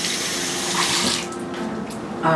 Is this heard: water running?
yes